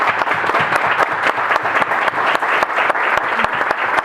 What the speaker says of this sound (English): I will ask you all that we thank him with a round of applause.